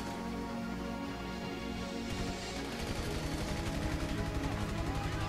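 Rapid bursts of gunfire in GTA 5 Online crackle over a dense, busy mix of game sounds and music, steady and fairly loud throughout.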